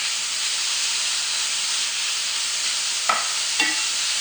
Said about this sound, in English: We just saute quickly so we don't need to overcook the steak.